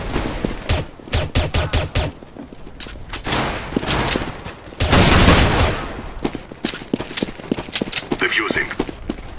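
In CS:GO, bursts of rapid gunfire pop out in clusters, sometimes close and sharp, with a louder roaring stretch in the middle and voices talking now and then.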